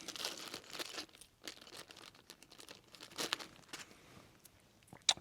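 Zip ties being pulled out of plastic packaging during a Jeep Gladiator LED grill light install: close, fairly quiet crinkling and crackling of plastic in irregular bursts, with a sharper snap near the end and no talk.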